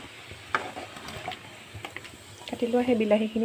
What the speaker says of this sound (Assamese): এতিয়া অকণমান লৰাই দিছোঁ যাতে নিমখখিনি বিলাহীখিনিত, নিমখৰ পানীটো সেই বিলাহীখিনিত সোমাই যায়।